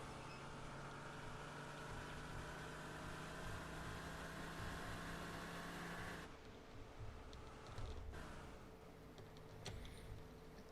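The Harvmobile, a slow car that won't drift in a farming video game, drones with a steady engine hum that holds evenly, then shifts and turns rougher with a few bumps and clicks near the end, quiet and without talk.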